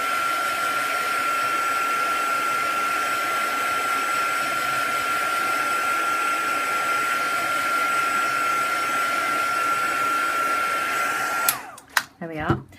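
A hair dryer blows steadily at close range with a constant whine to dry paint papers, running for about eleven seconds before cutting off with a few knocks and handling sounds.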